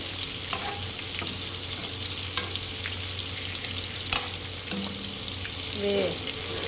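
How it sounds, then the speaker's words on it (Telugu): Large tiger prawns from the Godavari frying in a pan for biryani, a constant hiss of oil with a few stirring scrapes and clicks, close by, some brief background sounds, no speech. "ఇప్పుడు రొయ్యలు వేగుతున్నాయి చూడండి."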